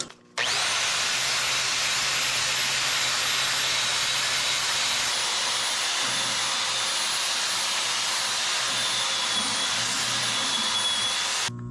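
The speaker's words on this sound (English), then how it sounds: "we got to get some of this old rust and this undercoating and all that stuff ground off of here" Wire wheel on a grinder scouring old rust and undercoating off the axle of a 1966 Chevy one-ton dually, a loud, steady high-pitched whir and scrape that runs unbroken from start to end.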